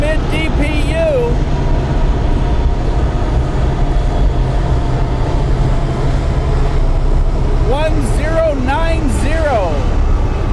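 Southbound Norfolk Southern freight train led by locomotive NS 4742 passes trackside, a loud, steady rolling rumble filling the whole stretch, with rising and falling tonal calls near the start and again toward the end.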